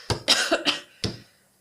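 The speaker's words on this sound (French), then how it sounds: "je renifle, je tousse encore" A person with a winter cold coughs in quick succession, a cluster of rough, close coughs followed after a short pause by one more single cough.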